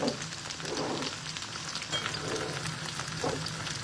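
Sweet and sour pork loins with mixed vegetables cook in a pan with a dense, constant sizzling hiss, fairly loud and close, swelling slightly in places without pause.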